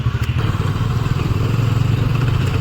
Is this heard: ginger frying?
no